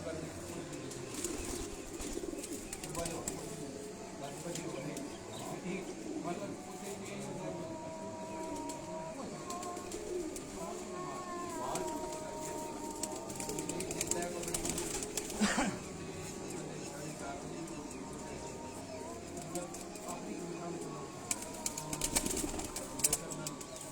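Lakha breed pigeons on a rooftop loft coo softly, and bursts of flapping wings sound at moments. The birds are faint and steady under a constant hum of people talking nearby.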